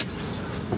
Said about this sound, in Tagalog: Pihitin natin yung susi.